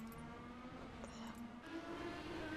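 IndyCar race cars in a sim-racing game at Interlagos, with engines droning steadily at a high pitch throughout, a field of cars revving together and rising slightly toward the end.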